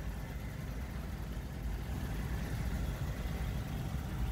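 A Toyota Tacoma engine runs at a steady, low idle in a dense, even rumble. No voices are heard.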